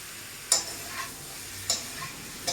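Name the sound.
potato and papaya frying in oil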